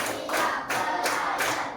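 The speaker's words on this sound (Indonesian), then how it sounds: "Oke, tepuk 1, tepuk 2, tepuk 3, tepuk 4, tepuk 5" A group claps in unison, a few strong synchronized beats spaced evenly about every third of a second, loud and close with no talking.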